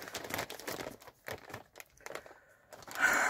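Plastic and cardboard mail packaging holding wrestling and Star Wars figures is cut and torn open, giving close, irregular crinkling and crunching bursts with short pauses, ending in a louder tearing rip.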